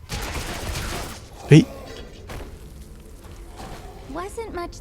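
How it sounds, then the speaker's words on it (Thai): Gunfire in the video game Devil May Cry: one sharp, loud shot bursts out amid game whooshes and effects, while a voice talks over the action. "อเลดี้ยิงแล้ว"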